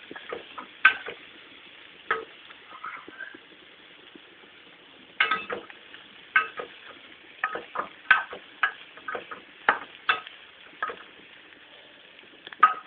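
Spiny gourd pieces for pachadi are mixed in a pan, irregular clicking and scraping taps from the spoon over a faint background, close and sporadic.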